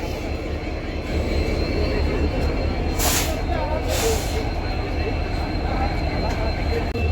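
A diesel locomotive hauling the new Pamban Express on the Pamban Bridge route rumbles steadily and loudly throughout, a continuous broadband roar with two brief hissing bursts midway.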